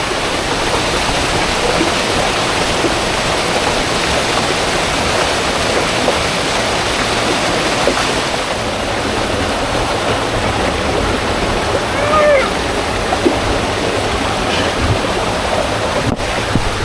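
Water rushing steadily down Swindale's Mosedale Falls in the East Lake District fills the whole stretch with a loud, close, unbroken roar, and wind buffets the microphone.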